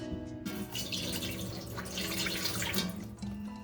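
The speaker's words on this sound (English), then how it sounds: "add some water" Water pouring steadily into a cooking pot while preparing moi-moi, a continuous close splashing and trickling stream with no talk over it.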